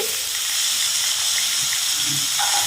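Chopped carrots and potatoes sizzle in hot oil in a wok, giving a steady, close, even hiss that holds without a break.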